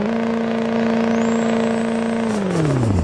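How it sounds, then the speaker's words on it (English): A loud 2002 Chevrolet Silverado truck engine roars steadily, then its pitch drops sharply near the end as the turbo blows off with a rushing whoosh. "can hear the turbo blow off."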